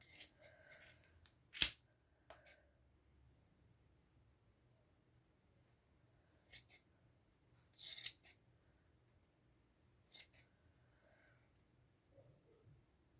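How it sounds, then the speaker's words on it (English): Scissors snip through the yarn loops of a pom-pom in a quiet room, with several separate crisp cuts spread out between pauses. "we've got to go through and snip all of our loops."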